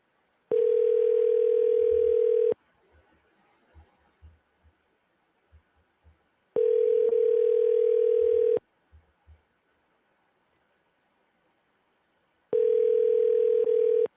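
Outgoing phone call ringback tone, three long steady buzzing rings about two seconds each with pauses between, loud and clear, with faint thumps in the gaps.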